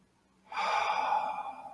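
A single slow, deep inhalation rises out of near silence and sustains for about a second before tapering, close and soft, during a guided meditation.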